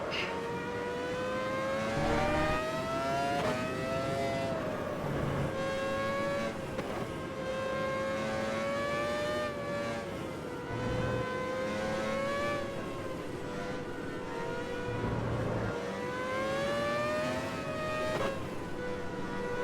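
Formula 1 cars in a racing video game set at the Japan round, engines droning and revving loudly and continuously with repeated gear-shift rises and dips as cars pass.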